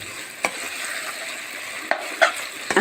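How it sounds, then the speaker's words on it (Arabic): Fried eggplant being stirred in a pan for a moussaka salad, the stove already switched off, giving a soft steady sizzle with a few brief scraping clicks of the utensil. "تقليبه كويسه قوي"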